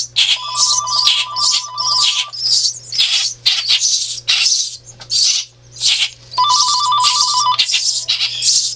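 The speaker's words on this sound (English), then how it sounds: "phone still ringing." An office telephone rings insistently with repeated electronic trilling bursts, close and loud, pausing briefly between rings.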